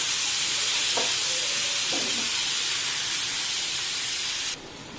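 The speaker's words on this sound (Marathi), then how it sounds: "त्यामुळे मी इथे टोमॅटोच्या फोडी घातल्या आहेत" Tomato pieces tossed into a pan of frying onion bhaji, a loud continuous sizzle and hiss with a couple of brief stirring scrapes before the sizzle drops abruptly quieter.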